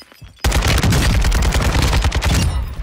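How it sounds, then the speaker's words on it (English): Rapid automatic gunfire in the video game Call of Duty Warzone 2, a loud burst of dense, overlapping shots starting abruptly after a brief quiet moment and continuing for about two seconds before tapering. "I hear shots."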